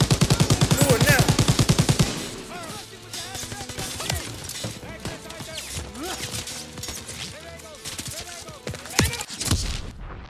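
Rapid automatic gunfire in a World War II setting in Call of Duty: WWII, a dense loud burst of machine-gun rounds at the start, then scattered shots, crashes and impacts in a busy battle mix.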